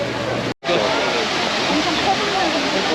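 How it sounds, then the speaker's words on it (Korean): Loud, steady rushing roar of Shifen Waterfall in Taiwan, broken once by a momentary cut, then continuing unchanged. "폭포에 도착을 했는데"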